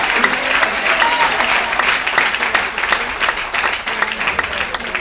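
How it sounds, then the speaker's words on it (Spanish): A church congregation at a Spanish-language service claps loudly and steadily for several seconds, a dense crowd applause with no voices on top. "Denle un aplauso fuerte al Señor por eso."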